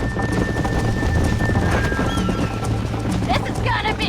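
A horse gallops in the video game Red Dead Redemption, its rhythmic clip-clop hoofbeats running steadily under a busy game mix with a short neigh near the end.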